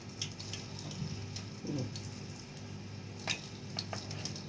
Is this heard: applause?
no